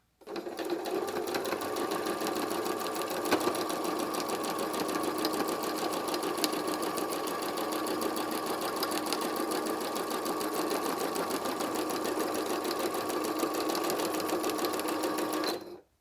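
A sewing machine stitches a four-patch patchwork coaster in one unbroken run, its rapid needle chatter and motor hum steady and close for about fifteen seconds before stopping.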